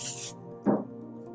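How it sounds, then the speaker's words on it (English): 505 spray adhesive hisses out of an aerosol can in a short burst, followed by a brief second puff, close and quiet over a low background hum. "Then I'm going to again spray with 505 spray."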